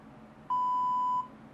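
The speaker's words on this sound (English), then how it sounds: "You can turn off the beep if you're in a gym" The FitNotes workout app's rest timer sounds a single clear electronic beep lasting under a second, close and alone against quiet room tone.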